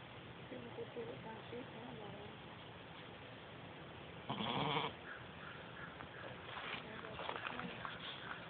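A sheep bleats once, a short nasal call amid outdoor farm background noise, with a person talking quietly nearby.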